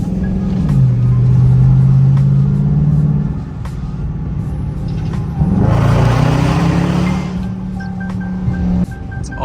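A Dodge Charger R/T engine pulls hard in a loud, close rumbling surge, settles into a drone, then roars up again in a second strong burst of acceleration.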